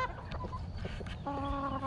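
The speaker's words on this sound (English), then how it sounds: "Don't be mad at the chickens." Backyard chickens cluck and squawk up close in a short burst of fowl chatter at feeding time, with no talking.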